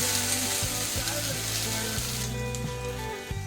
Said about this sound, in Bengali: এইভাবে আমি হালকা লাল লাল করে 5 মিনিট ফ্রাই করুন।